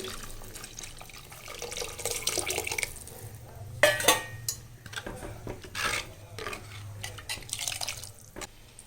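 Tamarind water poured into a clay pot for a ghee vanjaram fish curry, heard as intermittent close splashing and trickling liquid with a few soft knocks of the pot in a quiet kitchen.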